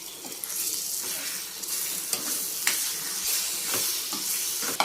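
Cauliflower egg curry stirred in a pan, a steady hiss of sizzling with scattered scraping clicks of the spoon against the pan, close and continuous, no talking.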